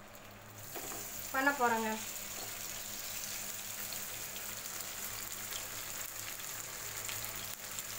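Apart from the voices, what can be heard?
fish pieces frying in hot oil in a kadhai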